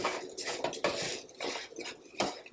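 Rice ingredients being mixed in a pot for halal cart chicken over rice, a spoon scraping and clanking against the pot in irregular bursts, close and fairly loud, with no talk.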